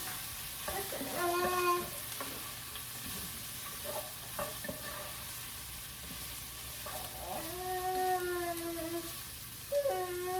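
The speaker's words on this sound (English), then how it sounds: "I'm gonna turn this back to hot so we can finish cooking the sausage" Sausage sizzling and frying in a hot pan for creamy potato soup, a steady close hiss with stirring scrapes throughout and no talk.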